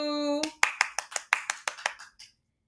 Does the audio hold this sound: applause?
yes